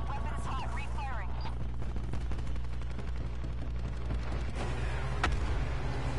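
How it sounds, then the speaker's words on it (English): Video game gunfire as steady rapid shots, layered with heavy, booming impacts and mechanical rumble, under some distant, indistinct chatter. "Weapons hot, refiring."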